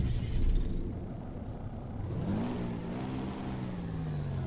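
Truck engine with a Cummins motor revving in American Truck Simulator on a custom Peterbilt, a rough mid-pitched drone that rises in pitch as the revs climb, steady and close with no talk.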